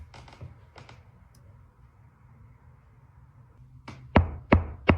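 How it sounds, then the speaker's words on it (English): Knocking in a basement: after a stretch of low room noise, three loud, sharp knocks land close together near the end, with a couple of fainter taps at the start. "Up in the basement, this is the last one. Where the knocking should be."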